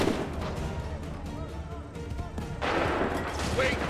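Musket volleys ring out in an Assassin's Creed III battle, a dense rumble of distant gunfire that swells louder near the end, with shouted commands over the top.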